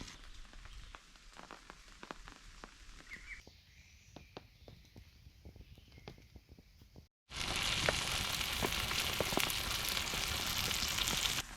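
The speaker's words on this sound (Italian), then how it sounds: "Nel mentre mi cuoce l'hamburger" A hamburger sizzles on a wood stove under a rain-sheltered tarp outdoors, a steady crackling fry that starts quietly with scattered ticks and drips, then swells into a loud, dense sizzle.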